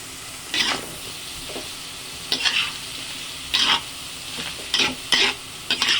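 Dinuguan cooking in a pan with soy sauce just added, a steady sizzle broken by several short scraping stirs at irregular intervals, loud and close.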